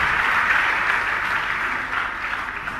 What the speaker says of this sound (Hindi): एक बार जोरदार तालियों से अरविंद भाई का सम्मान करें